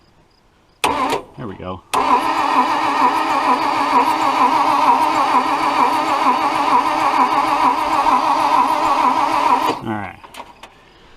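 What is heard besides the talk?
Toyota FJ55 Land Cruiser engine being cranked over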